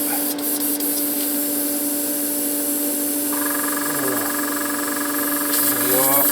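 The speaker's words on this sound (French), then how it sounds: "je fais devant vous mon nettoyage d'aéro" An airbrush is cleaned after spraying Tamiya paint on a Renault 5 Alpine scale model kit, giving a steady close hiss of spraying air over a constant compressor hum, with brief faint voice sounds.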